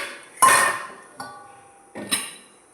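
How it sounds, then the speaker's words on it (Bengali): Cooked ridge gourd and poppy seed curry scraped from a pan into a bowl, three sharp metallic clanks of a utensil against cookware, each followed by a short scrape, close and clear with no talking. "এরপর এই যে এটা এবার একটা বাটির মধ্যে আমি ঢেলে নেব"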